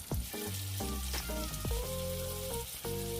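Tomatoes fry with other ingredients in a pan, a loud close sizzle with clicks and scrapes of stirring over an even background hiss.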